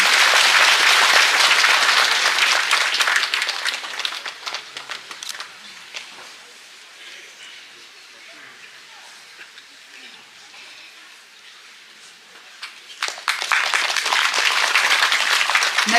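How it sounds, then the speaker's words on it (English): Audience applause at an ethnic culture show, loud clapping at first that fades to a quiet murmur, then swells back up again near the end. "Shall we give her a round of applause,"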